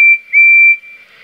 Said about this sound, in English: No, that was a whistle. Percy's whistle.